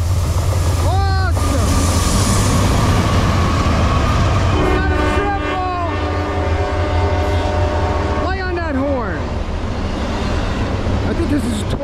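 A Norfolk Southern freight train on the Lehigh Line rumbles steadily past nearby, its horn sounding several times in long blasts over the continuous roar of the cars.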